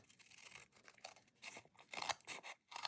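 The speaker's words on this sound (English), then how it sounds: "So now you're just going to cut this into thin strips." Scissors snip through book pages in quick, faint crisp cuts, cutting them into thin strips, with bursts of several cuts separated by short pauses, close and quiet.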